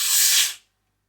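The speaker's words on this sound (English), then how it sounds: "this is what it looks like when you pull back the pressure release valve" Air hisses sharply out of the pressure release valve of a Bosch vacuum blender, one loud close burst lasting about half a second before cutting off into silence.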